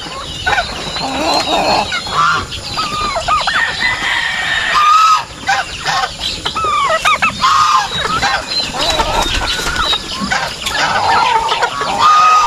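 Chickens cluck and crow among other farmyard fowl, with turkeys gobbling and geese honking, a dense, continuous poultry chorus close by.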